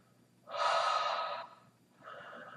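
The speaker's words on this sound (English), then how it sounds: "breathing through your mouth" Deep breathing through an open mouth during a guided breathwork session: one long, loud, breathy inhale-exhale lasting about a second, followed by a softer second breath, close to the microphone with no talking.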